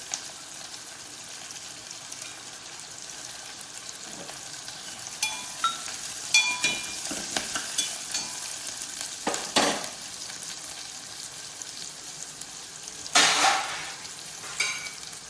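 Onions frying in a pan for an egg fry with garlic chilli masala, a steady sizzle throughout with sharper bursts of crackle and stirring scrapes near the middle and end, close and alone.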